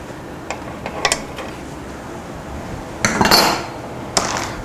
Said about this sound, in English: and then just unscrew the nut